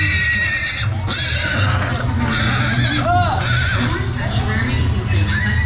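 Horses whinny and neigh while being loaded to rest after a horse-racing game in Tayabas, Quezon, with shrill calls rising over steady crowd noise and people talking throughout.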